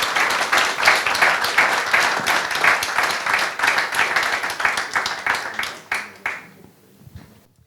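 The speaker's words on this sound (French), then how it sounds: "Mesdames, Mesdemoiselles, Messieurs, applaudissez Valérie Bugeaud" An audience applauds warmly for a speaker being introduced at a French talk on institutional crisis, steady dense clapping that holds for about six seconds, then thins and fades out to silence.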